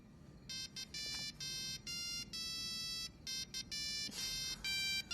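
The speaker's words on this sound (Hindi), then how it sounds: "मैंने स्पेशल रिंगटोन इंस्टॉल किया है तुम्हारे लिए।" A small mobile phone plays a special ringtone, a faint electronic melody of bright beeping tones in short repeated bursts with brief gaps between them.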